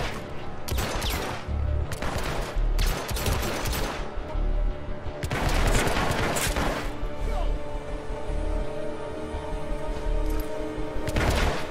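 Gunfire in the video game Hitman Absolution, with loud bursts of rapid shots repeating in clusters, separated by brief pauses, all close and dominant.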